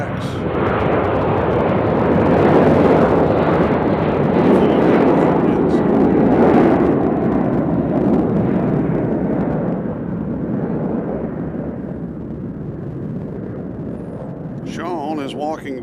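Delta airliner jet at Nashville International Airport, a loud broad roar that swells over several seconds and then slowly fades away, with a brief chirping sound near the end.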